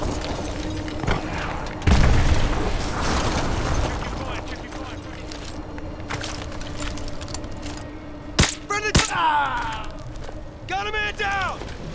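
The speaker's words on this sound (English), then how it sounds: "Those explosions are going to attract a lot of attention." Explosions in the Call of Duty: Modern Warfare 2 Remastered video game: a heavy boom and rumble followed by scattered sharp blasts and crackling bursts, with lingering debris and mechanical noise in the background.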